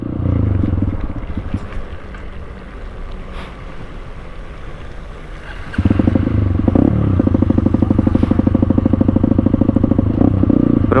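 Scooters push through shallow floodwater on a street in Malolos, Bulacan, a steady buzzing engine drone with rhythmic splashing and clatter that grows louder and closer about halfway through.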